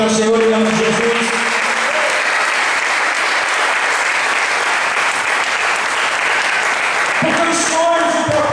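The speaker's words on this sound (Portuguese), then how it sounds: "Você pode aplaudir ao Senhor em nome de Jesus." A church congregation at a Sunday service applauds the Lord, with steady, dense clapping holding loud and even throughout. Sustained organ or keyboard chords sound under it at the start and again near the end.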